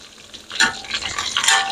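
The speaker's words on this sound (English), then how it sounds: "Kind of sounds like the frying might have slowed down some" Steady sizzling of chicken fried steak frying in hot oil, close and fairly loud, with brief stirring scrapes and no voices.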